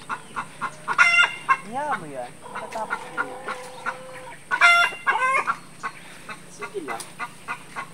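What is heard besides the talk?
chickens clucking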